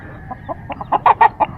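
Six backyard chickens cluck close by, a run of short, rising clucks that grow louder and more insistent over a low background hum, with no talking.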